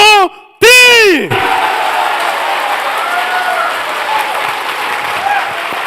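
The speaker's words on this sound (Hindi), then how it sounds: "तो ताली जबरदस्त बजाएंगे ना?" Crowd at a Web3 event in Delhi bursting into loud clapping on cue. A few rising vocal shouts come first, then sustained applause with scattered cheers and voices underneath.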